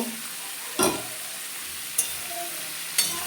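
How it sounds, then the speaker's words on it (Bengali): Curry with lentil dumplings (bori) stir-fried in a pan: a steady close sizzle, broken by three sharp spatula scrapes roughly a second apart, with no talking. "এখন আর একটু কষাবো বড়িগুলোও বন্ধুরা দিয়ে দেব"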